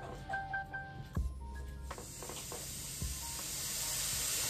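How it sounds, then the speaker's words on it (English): An air compressor releases air in a sustained, moderately loud hiss that builds toward the end, broken early by a few short clicks and thumps. "I'm just gonna get the air compressor ready to give me a good punch."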